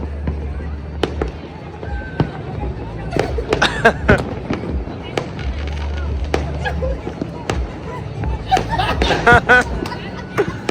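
Firecrackers burst after dark during the Uttarayan kite festival, in sharp, irregular cracks over a steady crowd murmur, with a quick cluster of pops near the end.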